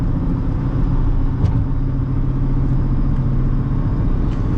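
A 2008 Honda Fit engine accelerating on a highway, a steady, loud, close rumbling drone with road noise that holds evenly throughout.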